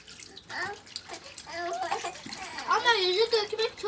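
Water splashes and trickles in a bathtub as it is poured over children washing their toys, with children and an adult talking and squealing throughout, the water sounds close and mixed under the voices.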